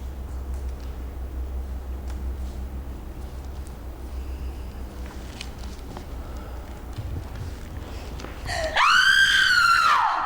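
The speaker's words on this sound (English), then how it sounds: "Did you hear that? She screams in the night." A woman screams at night, one loud, sustained, high-pitched cry that rises and wavers near the end after a long stretch of quiet low rumble.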